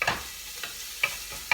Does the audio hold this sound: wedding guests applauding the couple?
no